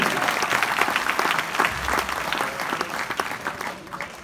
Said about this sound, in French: Vous pouvez applaudir les 45 millions.